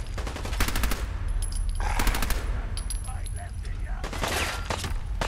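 Fallout 4 game gunfire rattles in rapid bursts over a busy, loud soundscape of explosions and game effects.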